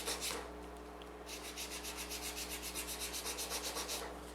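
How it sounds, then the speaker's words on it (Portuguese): A polygel stiletto nail is shaped with a nail file in steady, rapid back-and-forth strokes, the close, soft rasping repeating evenly after a brief first pass, with no one speaking. "E vai lixando e aos pouquinhos vai deitando a lixa pra cima da unha."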